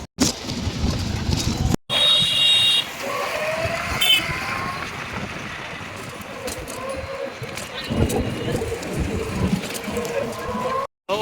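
Busy ambience at Old Delhi Junction railway station, a continuous rumble of crowd and rail activity with occasional clanks and tones, a voice talking over it throughout.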